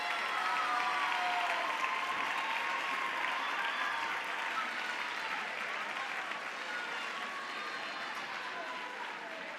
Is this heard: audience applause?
yes